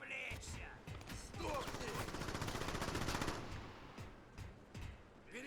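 Dense gunfire in the Xbox 360 game Crackdown, with rapid machine-gun bursts and scattered shots piling into a chaotic fusillade that swells and fades, with brief speech in between.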